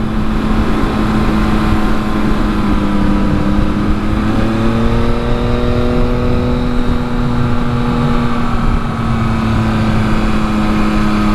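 A capable motorcycle screams at high revs in second gear on a winding Colorado canyon road in Black Canyon of the Gunnison, its engine note steady and loud with a rising pitch, no voices over it.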